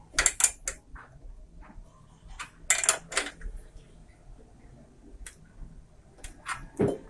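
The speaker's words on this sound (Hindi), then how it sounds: "अब इस रिंच की हेल्प से इसे मैं बिल्कुल अच्छे से टाइट कर लेता हूँ।" Bicycle brake wire fitting tightened with a wrench, producing small metallic clicks and taps in irregular clusters, close and fairly quiet, with faint background noise.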